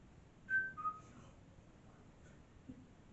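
A faint, short whistle of two quick notes sounds at a distance in a quiet room of the Skirrid Inn in Wales, followed by soft rustling.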